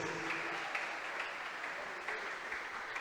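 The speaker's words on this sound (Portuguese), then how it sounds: "Vamos aplaudir ao Senhor Jesus" A church congregation applauds in steady, dense clapping that fills the room evenly throughout, with no voices standing out above it.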